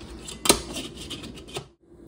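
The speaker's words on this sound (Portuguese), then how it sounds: "Daí eu coloco a tampa." A single sharp metallic clink as a lid is set on a cooking pot, followed by faint scraping and a softer clatter before silence.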